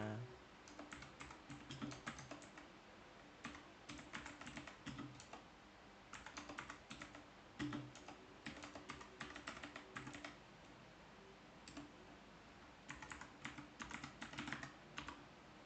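Soft, quick keystrokes on a computer keyboard while entering a name in an Ubuntu terminal, clustered in irregular bursts with brief pauses, quiet and close.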